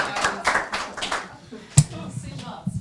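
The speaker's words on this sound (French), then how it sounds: "Faire applaudir à la fin." A short round of clapping closes an annual general assembly, a few strong bursts in the first second and a half, then thinning to scattered claps and faint room murmur.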